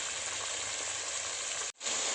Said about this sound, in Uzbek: Mana shu holda 10 minutcha qovurib olamiz.